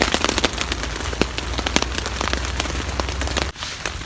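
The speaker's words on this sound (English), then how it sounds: "it's pouring down with rain" Heavy rain pours onto a tarp shelter outdoors, a dense steady patter with louder individual drops popping through, loud and close, briefly dipping near the end before resuming.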